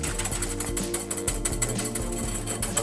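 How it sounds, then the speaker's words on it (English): Electric whisk beating egg whites into meringue, a steady loud buzzing whir with a rhythmic rattle against the bowl, constant throughout and close up, no talking. "And you need to whisk this until they peak."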